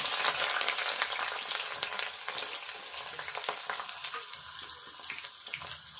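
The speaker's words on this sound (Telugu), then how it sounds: "ఎండుమిర్చి ఒక మూడు వేసుకొని తాలింపు ఇట్లా వేగినాక ఉల్లిగడ్డ కడి చేసుకుందాము" Onions frying in hot tempering oil with mustard seeds and three dried red chillies, a dense, close crackle and sizzle with sharp pops that eases slightly toward the end, no talking.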